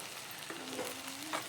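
Chopped capsicum fries in hot oil with gram flour powder, a steady soft sizzle with faint stirring scrapes, heard close and quiet with no talking.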